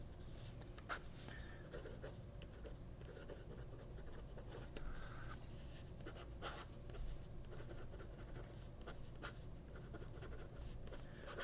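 A fountain pen with a medium nib scratches softly across paper in short strokes and pauses, faint and close, over a low background hum.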